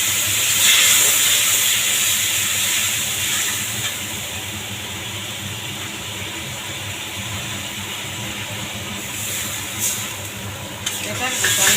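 Spice paste for pangas fish curry sizzles and hisses steadily in a pan as it is fried and stirred, a dense, close frying sound with occasional scraping and clatter.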